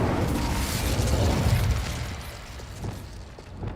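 Incendio fire spell cast in Hogwarts Legacy, a loud rushing burst of flame roaring from the start and slowly fading over a few seconds with crackling texture.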